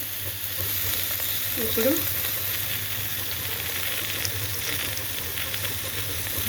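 A ladle stirs moong dal khichdi mix as it fries in a pan, giving a steady close sizzle with faint scraping, while a voice speaks briefly.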